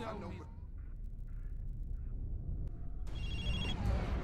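Telephone ringing in the action game Prototype 2, a brief burst of bright electronic rings near the end over rumbling game ambience, with chattering voices earlier on.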